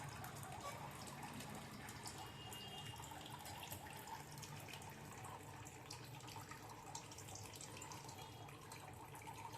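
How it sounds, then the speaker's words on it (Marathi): Water running steadily from a cooking pot into dal, a continuous rushing, splashing wash that stays even and fairly loud throughout with no talk. "मग काढा पाणी, काढा आणि वरणामध्ये टाका"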